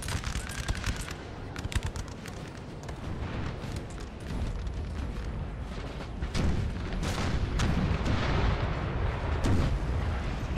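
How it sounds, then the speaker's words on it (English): A Napoleonic Total War 3 battle rumbles with repeated artillery cannon booms, some distant and some nearer, layered with scattered musket fire in a dense, continuous barrage. "But they have artillery just softening up the positions of Prussia."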